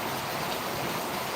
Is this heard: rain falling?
yes